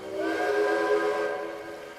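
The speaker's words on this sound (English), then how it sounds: "Wild whistles echoed and bounced off his boiler." Cartoon steam engine whistle echoing through a misty valley, one sustained loud tonal blast with a breathy hiss that swells and then fades slightly, heard alone.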